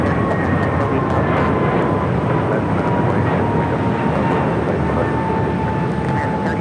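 A jet airliner takes off at Phoenix Sky Harbor with a loud, sustained engine roar and a faint high whine running through it, steady from start to finish.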